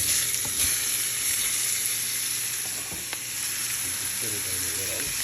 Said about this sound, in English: We're going to give those a sear